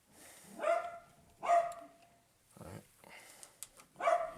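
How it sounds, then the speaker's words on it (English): A pet dog barks repeatedly somewhere upstairs in a house, a run of four or five moderately loud, spaced barks spread across the moment, sounding slightly muffled and off from the room. "I apologize if you hear my dog losing her absolute mind up there."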